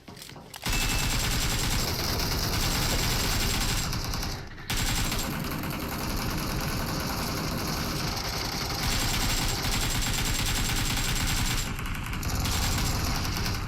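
Sustained automatic gunfire and rapid shot bursts in PUBG Mobile zombie mode on the Livik map, loud and dense almost throughout, with brief pauses between volleys.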